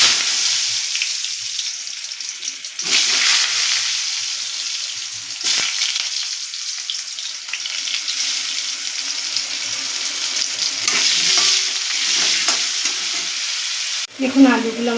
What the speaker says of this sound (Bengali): দিয়ে দেবো আলুগুলো ভেজে নেব নুন দিয়ে